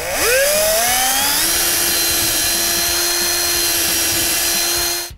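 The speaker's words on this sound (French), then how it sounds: "Si vous optez pour le contreplaqué, il faut y percer encore des trous pour que l'ensemble soit plus stable." A power drill bores holes through a plywood sheet, its high motor whine rising in pitch as it spins up, then holding a steady, loud drone close by for about five seconds before stopping.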